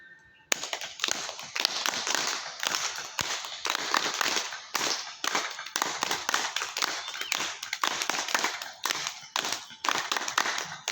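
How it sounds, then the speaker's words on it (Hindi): A group at a yoga camp in Niwaru, Jaipur claps loudly, a dense, fast, continuous run of close, sharp hand claps that keeps going without a break. "तो जोर से ताली बजाना है"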